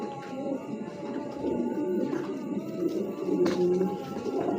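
Low, soft cooing from racing pigeons at a breeding loft, a steady murmur of overlapping calls close by with a few sharper clicks and rustles.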